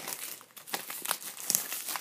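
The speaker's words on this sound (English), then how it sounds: "Get my scissors. Cut the plastic." Scissors cut through the plastic wrap on a gold iPhone 5S box, giving close, crisp crinkling and snipping that crackles in quick irregular bursts.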